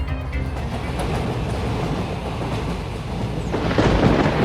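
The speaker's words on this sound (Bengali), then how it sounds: "ঝড় বৃষ্টির দাপট" Steady roaring wash of heavy rain with low rumbling, swelling louder toward the end, like a storm pounding down; no voices.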